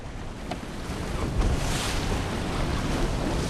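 Strong wind and rough sea waves churn around a small fishing boat out on a southern sea in winter, a dense continuous roar of wind noise and water with no talking.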